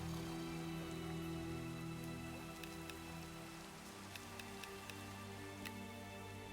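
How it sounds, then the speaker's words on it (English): Steady rain falls in modded Minecraft, a soft continuous patter with scattered drop ticks, faint and alone with no voices. "Why is it always raining when I get back?"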